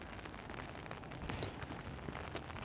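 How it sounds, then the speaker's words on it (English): Heavy rain pours down steadily, a dense continuous patter of drops on surfaces close by, with no other sounds standing out. "the rain's coming down pretty hard now"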